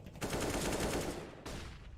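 Gunfire in a Counter-Strike esports match, a rapid burst of automatic shots lasting over a second, then a short gap and another burst, loud and close.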